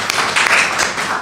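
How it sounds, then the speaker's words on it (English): Brief burst of audience clapping at a talk, a close, steady patter of many hands lasting about a second. "A round of applause for the givers"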